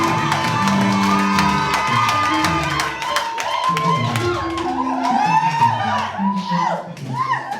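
A wedding congregation in church cheers after the vows, with loud whoops, shouts and excited voices from a crowd, sustained and close, swelling and overlapping throughout.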